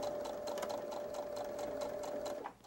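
A sewing machine tap stitches the short ends of pressed fabric with an eighth-inch seam for a quilted wallet, a steady close whir with fast needle pulses that runs for over two seconds and stops near the end.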